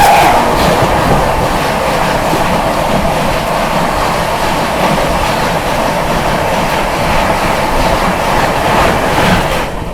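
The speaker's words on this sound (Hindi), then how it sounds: "चलिए दोस्तों सामने से आती हुई शालदा नई दिल्ली राजधानी एक्सप्रेस" The Sealdah–New Delhi Rajdhani Express rolls past in fog with a loud, steady roar and rhythmic wheel clatter that stays constant and close throughout.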